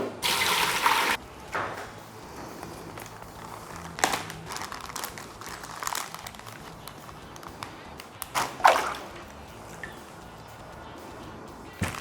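A plastic bag of honey soy marinated chicken wings is pushed down into water, with crinkling plastic, sloshing splashes and tap-like running water in intermittent bursts, fairly close and without talking.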